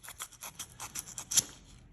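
A hand file rasps across a steel CWC Navy Diver watch case, wearing down ruts and leftover weld, in a close run of quick, even back-and-forth strokes that ends with a sharper scrape before fading out.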